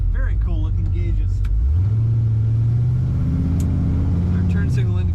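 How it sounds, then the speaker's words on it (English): A slightly modified 1956 Chevrolet Bel Air Nomad with air ride suspension revs and accelerates, a deep rumbling engine note climbing and holding loud and close, with someone talking over it. "Very nice throttle response and acceleration from this Nomad."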